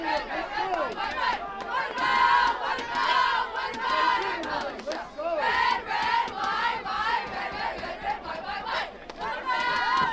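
A football crowd at a high school varsity homecoming game roars and shouts after a fumble, a loud sustained wall of cheering and yelling voices that swells and dips for several seconds.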